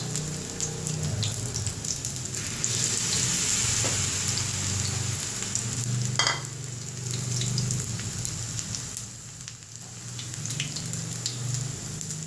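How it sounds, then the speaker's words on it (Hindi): Poha kebabs, dipped in chicken powder, frying in hot oil with a continuous crackling sizzle like light rain, steady and close, with a few faint clicks and shifts in intensity. "मैं इसको इसमें डिप करके इसमें फ्राई कर रही हूँ।"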